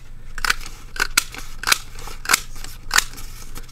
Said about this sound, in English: Just take any paper that you have, use your hole punch,